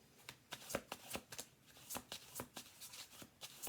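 Tarot cards are flipped and handled on a table in a quick series of soft, close snaps and riffling flicks, irregular but frequent, with no talking.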